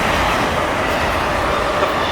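A CSX freight train hauling auto rack cars rolls past at speed in Germantown, a loud, steady broadband roar of wheels on rail with faint clickety-clack, close and continuous with no voices.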